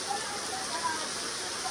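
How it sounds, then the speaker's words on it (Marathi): Steady dense hiss of heavy rain driven by strong wind, a broad even wash of sound close around the listener with no distinct drops or talk. "हवा पण जोरात सुटली आणि पाऊस पण."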